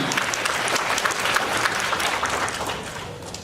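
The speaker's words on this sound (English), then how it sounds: "Let's give them a round of applause." Crowd applause at a fan festival closing ceremony in Toronto, a dense, steady wash of many hands clapping at once, loud and sustained throughout without a break.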